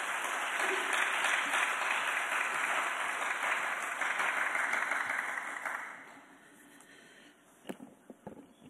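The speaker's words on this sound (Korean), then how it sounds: "선교사님 나오실 때 우리 박수로 환영해 주시기 바랍니다." A church congregation applauds to welcome a missionary at a Wednesday evening service, steady broad clapping filling the room for about six seconds before fading, followed by a few isolated claps and knocks in a quiet hall.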